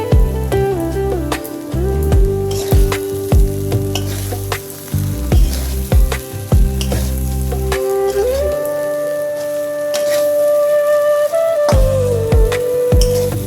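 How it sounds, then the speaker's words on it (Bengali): Flattened rice (chira) fries with salt in a pan. A loud, dense crackle with rapid stirring scrapes sits over a steady tonal hum, with no one talking. "চিড়েটা ভাজা হয়ে গেছে"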